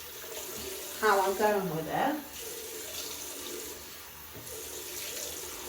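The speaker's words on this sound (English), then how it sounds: "I'm going to wash that off and just dab my face with a clean towel." Tap water runs steadily into a sink during face washing to rinse off a skincare product, close by, with a person speaking briefly over the flow.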